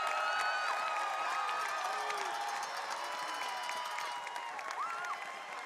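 A school basketball crowd cheers and shouts in a gym after a big play, a sustained dense roar of voices with whistles and yells, gradually fading slightly.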